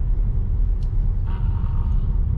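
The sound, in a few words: car engine rumble while driving around a cemetery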